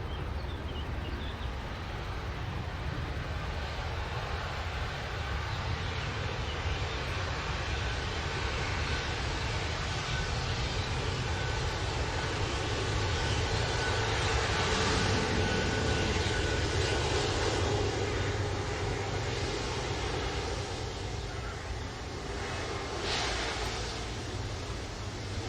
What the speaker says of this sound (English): Oh, this is a Jet 2 330 actually.